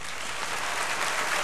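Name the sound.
audience applause after speech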